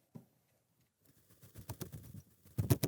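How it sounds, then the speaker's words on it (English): Soft fluttering flaps build from faint to a burst of louder wingbeats at the end, close by with a rustling, papery texture. "that sounds just like a bird flapping its wings"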